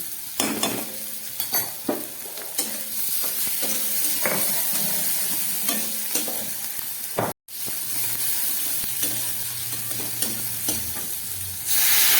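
Potatoes and spices fry with chili powder in a hot pan, giving a steady close sizzle with repeated scraping stir strokes and a brief cut partway through.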